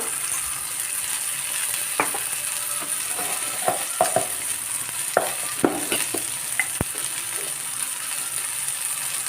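Masala for paneer butter masala sautés in a pan, a steady, even sizzle under repeated scraping and tapping strokes of a spoon stirring the mixture, close and moderately loud.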